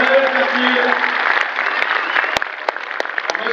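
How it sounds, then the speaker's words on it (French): Audience applause at a radio event in a cinema, a broad burst of clapping with a voice speaking over the start that thins into scattered separate claps by the end. "On peut l'applaudir."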